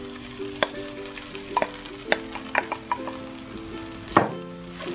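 Chinese fried rice with shrimp and egg is stirred in a sizzling pan, with a steady fry underneath and irregular scraping and clacking utensil strikes, close by and with no speech.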